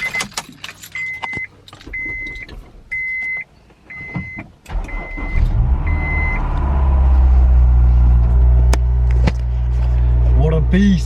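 A Honda S2000, a base-model S2K, starts up in a garage after keys jingle and a few short electronic beeps sound. Its engine then settles into a loud, steady low idle that runs to the end.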